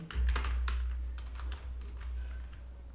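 Rapid keystrokes on a computer keyboard while entering a MySQL create-table command, a steady run of close clicks over a low constant hum, with no talking.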